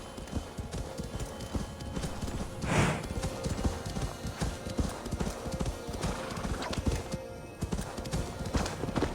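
Horse hooves clip-clop in a steady rhythm in Assassin's Creed Valhalla, over a dense layer of background noise, with a brief louder burst partway through.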